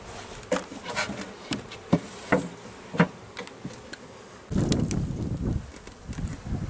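Honey bees buzz during a full hive inspection, a low hum under sharp wooden taps and clicks of frames being handled, the buzzing swelling louder and denser in the final seconds.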